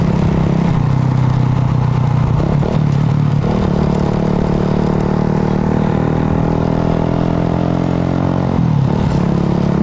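A ZX110 motorcycle with an open exhaust pipe runs loud and close, a raspy engine note holding steady with a few rises and dips in revs. No voices are heard over it.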